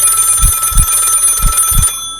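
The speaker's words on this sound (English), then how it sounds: "Then the phone rang." An old wall-mounted telephone rings in a quiet house, its bell sounding in two paired bursts before cutting off abruptly near the end.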